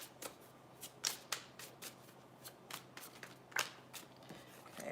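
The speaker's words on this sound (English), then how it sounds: "We're going to throw 3 cards down for each sign" Tarot cards being dealt and laid down one after another during a love astrology reading, a series of soft, brisk card slaps and shuffling flicks at irregular intervals, fairly close and quiet with no talking.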